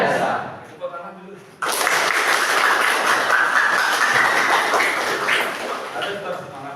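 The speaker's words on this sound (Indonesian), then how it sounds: "tepuk tangan dulu." A class of vocational high school students in a food and catering course bursts into loud, sustained applause and clapping that fills the room, starting abruptly after a short quiet stretch and continuing steadily to the end.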